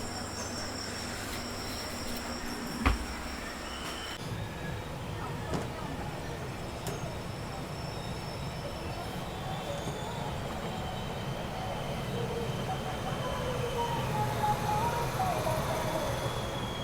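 Indian Railways 18519 Visakhapatnam–Mumbai LTT Express pulling away after a one-minute halt at Pithapuram, with a steady low rumble of wheels and carriages and a sharp clank near the start, the roar building slightly toward the end.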